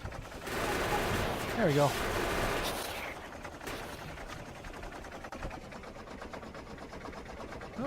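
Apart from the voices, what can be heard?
machine gun fire in video game Factorio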